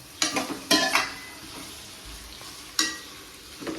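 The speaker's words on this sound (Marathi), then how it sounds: "देतोय फोडणी थोडी तेल टाकते" Oil tempering for chicken biryani crackles in short, sharp bursts of sizzle mixed with a few stirring scrapes, separated by quieter gaps.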